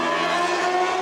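Car passing in Gold Coast traffic, a steady loud broadband road rush and engine whoosh with no talking.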